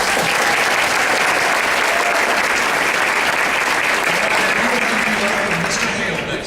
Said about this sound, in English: So if you could give the trumpet section a round of applause.